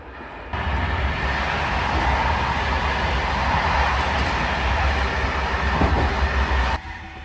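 Inside a moving French SNCF train vestibule, a loud continuous rumble and rushing roar of wheels and carriage noise sets in abruptly after a quieter start and cuts off just as suddenly near the end.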